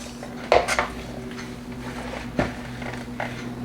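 A spoon mixes a two-ingredient bread batter in a bowl, making a few sharp clinks and scrapes against the bowl's side, spaced apart over a quiet, steady room background.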